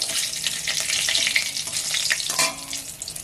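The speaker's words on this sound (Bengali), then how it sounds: "আর দুটো লবঙ্গ তেলের মধ্যে ওইগুলো দিয়ে দিচ্ছি তিনটে লবঙ্গ আছে দিয়ে দিচ্ছি একটা তেজপাতা দিয়ে" Whole cloves and a bay leaf frying in oil, a bright close crackling sizzle that flares briefly and then settles.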